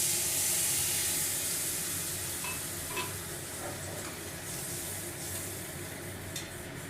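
Water poured into a hot pan of oil with dried red chilli, bay leaf and whole cumin, steady broadband hiss and sizzle that starts loud and eases slightly, with faint stirring clinks, no voices.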